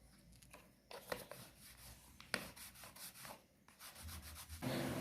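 A rolling pin passes back and forth over pastry dough for fried Brazilian pastel, producing soft, close rubbing and sliding strokes with light knocks.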